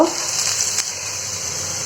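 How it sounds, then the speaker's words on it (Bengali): Onion frying in oil in a pan gives a steady, even sizzle up close, with no talk over it. "পেঁয়াজটা একটু ভেজে নেব"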